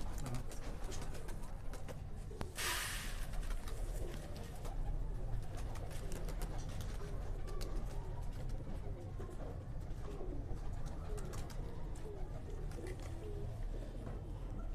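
Blue pigeons in a breeding setup coo softly and repeatedly, low and fairly distant, over a steady background hum with faint rustling.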